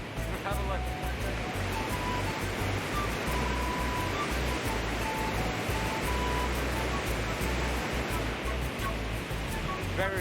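Powerful river current rushing near Machu Picchu, a loud continuous broadband roar of churning water that stays steady throughout with no talking.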